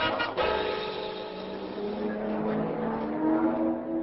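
Racing car roaring past in a radio comedy sound effect, a loud revving engine that sweeps and fades slightly over a few seconds, alone without talk.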